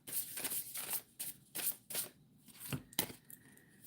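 Tarot cards are shuffled by hand in quick bursts of riffling and slapping, close and crisp, several separate flurries over a few seconds.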